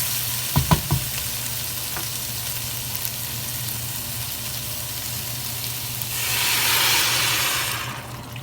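Chicken sizzles and fries steadily in a pan, with a few clinks of a utensil early on and a louder hiss of steam near the end.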